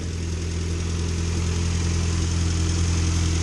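A Morris car engine idles steadily with the choke on under the open bonnet on a chilly day, a continuous low, even rumble with a faint mechanical hum, close and alone.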